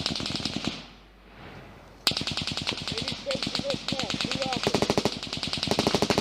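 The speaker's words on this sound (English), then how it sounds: "He's shooting at them right now, right? With what? With a Soviet machine gun?" A Soviet machine gun fires in long rapid bursts, sharp rhythmic cracks after a short lull, loud and sustained, with voices talking over the gunfire.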